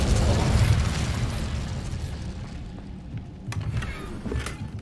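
Fire spell blast in the video game Hogwarts Legacy, a loud booming burst with a rumbling roar that gradually fades, followed by a few crackling clicks, with no talking.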